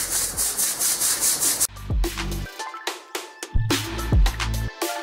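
Stiff brush scrubbing the walls of a horse stall during cleaning, a loud steady rasping at first, then shorter rhythmic strokes with knocks and scrapes close by.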